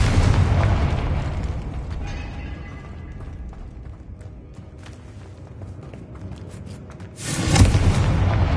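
Booming fire-spell explosions in Hogwarts Legacy, loud and continuous at the start, easing to a rumbling sustain, then a fresh loud blast near the end, with no talking.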